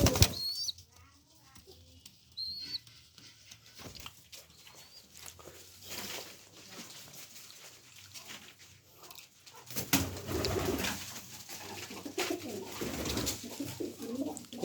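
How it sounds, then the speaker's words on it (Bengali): Pigeons in a coop give low soft coos with bursts of wing flapping and shuffling, mostly faint and close, with some voice in the background. "এটা পায়রা হবে"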